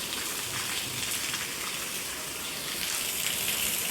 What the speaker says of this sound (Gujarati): અત્યારે 1:30 થયો અને જોરદારનો વરસાદ આવી ગયો છે